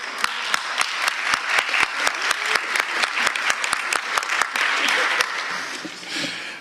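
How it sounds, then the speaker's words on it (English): A conference audience claps for a panel of agriculture forum speakers, with sharp, distinct individual claps in a steady, fairly sparse rhythm that thickens into fuller applause before fading out. "deserve a big clap"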